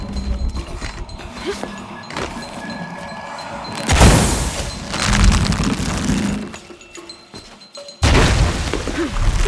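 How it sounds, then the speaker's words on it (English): An explosion in Shadow of the Tomb Raider on PlayStation 5, a loud booming blast with crashing, crumbling debris that swells, fades, then returns as another heavy rumble over game ambience. "Have to create an explosion."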